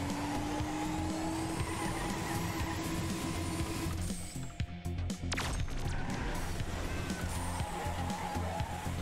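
A car drifting in the video game Tower Unite, a continuous engine drone with a sustained tire squeal in the first half, then a brief dip and the revving resumes.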